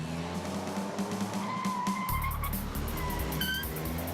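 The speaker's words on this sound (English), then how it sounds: "the usual excessive engine noise that accompanies a CVT is on full display as you work your way from a stoplight or, in our case, down a drag strip" 2014 Nissan Rogue with a CVT accelerating down a drag strip, a loud, steady engine drone and tire noise, shifting in pitch partway through, with no talk.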